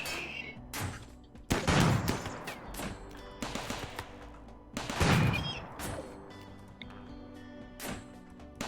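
Gunfire crackles through a frantic RimWorld battle involving uranium turrets, irregular bursts of shots and thuds scattered across the scene, with louder impacts standing out amid the game clatter.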